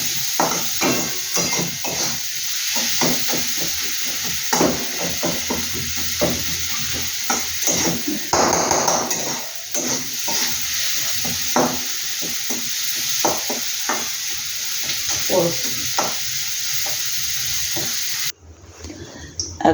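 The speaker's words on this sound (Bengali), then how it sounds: "এটাকে আমি লাল করে ফ্রাই করে নিচ্ছি।" Something frying in a pan until reddish with turmeric, a continuous hissing sizzle close by with repeated knocking, scraping stirs and taps of a spatula against the pan.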